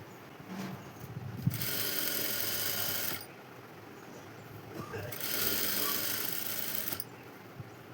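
A sewing machine stitches lining onto cloth for puff sleeves in two steady whirring runs of about two seconds each, close and clear, with quiet handling noises in between.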